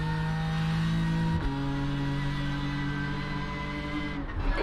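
A BMW M4 GT3 race car in the iRacing sim holds a steady, droning engine note at speed. The pitch dips briefly, like a gear change, then carries on loud and continuous with no voices.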